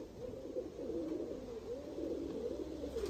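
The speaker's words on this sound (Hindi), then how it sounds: "ये सियालकोटी कबूतर है अली वाला" Sialkoti Aliwala pigeon cooing in a steady run of soft, low rolling coos, fairly close, with constant background hiss and no talk.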